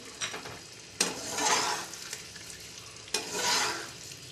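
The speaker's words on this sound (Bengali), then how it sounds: "আর যে ক্যাপসিকাম, পেঁয়াজ আর টমেটোটা ভেজে নিয়েছিলাম সেটা দিয়ে দিচ্ছি।" Fried capsicum, onion and tomato are tipped into a hot pan for heeng alu. Two sharp drops each set off a burst of sizzling, and soft stirring scrapes follow up close.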